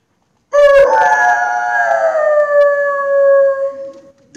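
A man imitating a wolf howl for a school audience, one long sustained howl that starts suddenly, holds loud and near with a slowly falling pitch, then trails off.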